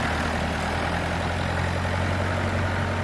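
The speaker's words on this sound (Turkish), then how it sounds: "Traktör evlerin ve yemyeşil bahçelerin arasındaki köy yolunda ilerliyor." A tractor rumbles along a village road between houses and green gardens, its low, steady engine drone continuous and fairly loud throughout, with no talking.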